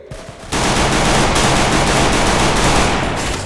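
Rapid automatic gunfire in the video game Free Fire starts abruptly after a brief lull and keeps up as a loud, dense, continuous burst to the end.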